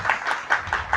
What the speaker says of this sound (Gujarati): તાળી વધાવો એકવાર.